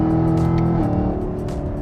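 A Ford Mustang Shelby GT500 in a drag race against a Camaro ZL1 and a Hellcat Redeye gives a steady, loud engine roar. It holds a strong droning tone with no talk over it.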